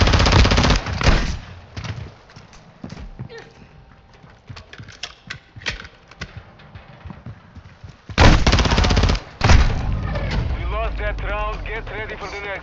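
Gunfire from Modern Warfare 2, including a rushing shotgun, in a gunfight match on the Shipment map: bursts of shots stop and start across the clip, with a loud cluster near the end, mixed with game sounds and some talking.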